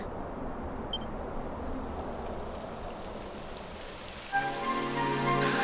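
Rain falling in the video game Dragon Quest XI S, a steady soft patter throughout, joined near the end by a louder, fuller wash with a tonal layer.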